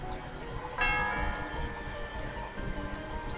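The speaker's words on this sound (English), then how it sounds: "I'm just gonna ring this bell." A single bell struck at the Celestial Tower in Pokemon Black 2, a bright clang that rings on with a long, steady shimmering decay over quiet game background.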